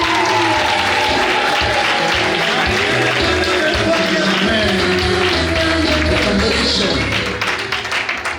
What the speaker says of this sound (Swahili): Makofi tafadhali.